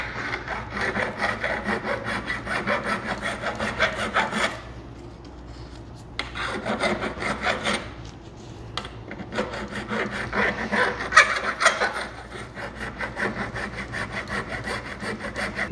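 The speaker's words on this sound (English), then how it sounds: "the new one that I just filed versus the one with the groove" Steady, raspy back-and-forth filing on a grooved clutch basket from a Yamaha YZ-450, close and loud, with a few short pauses between stroke runs and no talking.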